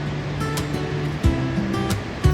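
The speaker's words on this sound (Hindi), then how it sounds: "बहती हुई मधुगंगा का मधुर शोर" The Madhuganga river flowing through Himalayan forest on a mountain trek makes a steady, rushing water roar, close and continuous, with a few brief knocks over it.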